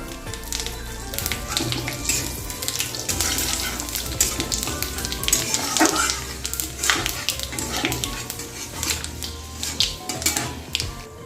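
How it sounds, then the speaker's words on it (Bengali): Five-spice seeds, a dried chilli and bay leaf crackle and sputter in hot oil in a wok, giving a steady dense sizzle with sharp popping bursts throughout and no talk. "কড়াইতে তেল বসিয়ে দিয়েছি তো আমি তেলে পাঁচ ফোড়ন একটা শুকনো লঙ্কা আর তেজপাতা দিয়ে দেবো"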